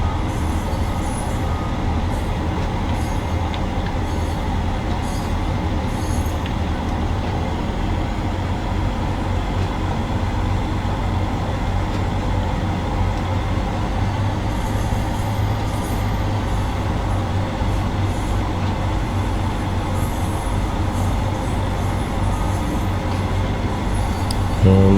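A train running on the West Cornwall Line in Train Sim World 2, a steady low rumble and rolling hum that holds evenly throughout, with faint higher rattles and no voices.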